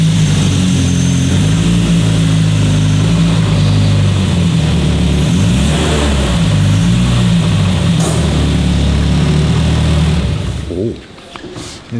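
A car engine drones loudly and steadily as the vehicle pulls away, holding a low rumbling tone before dropping off abruptly near the end.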